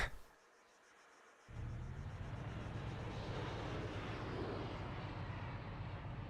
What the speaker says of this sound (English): Hear that thing fly over? Sounded like a fast jet.